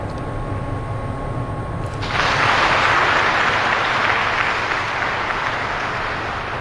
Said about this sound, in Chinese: 这掌声啊，这是旁边另外一张球台上奥沙利文的比赛的